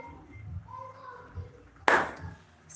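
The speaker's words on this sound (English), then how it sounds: "why have I been clapping of late when I do my lives?" A single sharp hand clap rings out once near the end, loud and close, after a stretch of quiet low voices and background murmur indoors.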